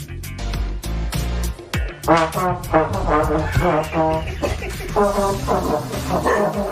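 Dogs bark and yelp along with a loud music performance, their rhythmic, harmonic cries repeating over the instruments throughout.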